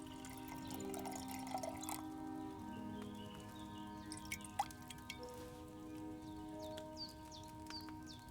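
Liquid pours and drips from a cauldron during alchemy brewing in Kingdom Come Deliverance II, a steady trickle with scattered drips and small splashes over a low hum of game ambience.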